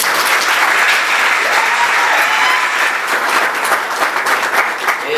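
Wedding guests break into loud, sustained applause, a dense wash of clapping close and full for the whole stretch, with a few cheers mixed in.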